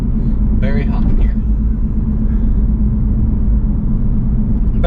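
Aston Martin Vantage 4.7 V8 cruising in fourth gear, its engine a loud, steady low rumble heard from inside the cabin, with a voice talking over it.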